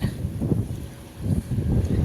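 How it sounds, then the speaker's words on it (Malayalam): Gusting strong wind at Munambam near Cherai Beach buffets the microphone in low, rumbling surges, rising and falling over a couple of seconds with no voices. "ഓഡിയോ കൃത്യമായിട്ട് കിട്ടാൻ ചാൻസ് ഇല്ല. കാരണം നല്ല കാറ്റുണ്ട് ഇവിടെ."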